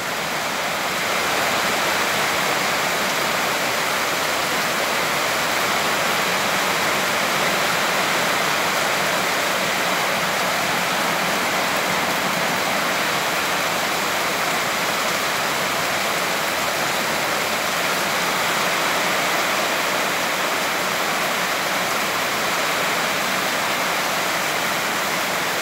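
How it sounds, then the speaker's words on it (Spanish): Steady, heavy rain pours down continuously on a ranch, a dense even hiss that fills the whole stretch without pause. "Está lloviendo, bien bonito está lloviendo."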